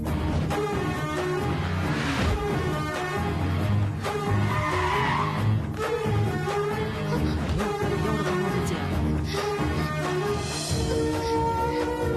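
A car driven hard with tires skidding and squealing, loud and continuous over a busy soundtrack of music and commotion.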